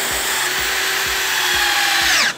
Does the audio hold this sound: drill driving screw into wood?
yes